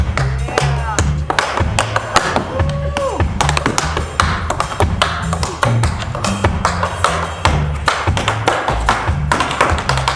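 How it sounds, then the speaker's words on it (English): In a rhythm tap performance, a bass line comes in with a new melodic idea in a steady, syncopated pattern, under constant sharp tap percussion in a busy, loud mix. "When the bass enters with a new melodic idea, its rhythm is also based on the trazio"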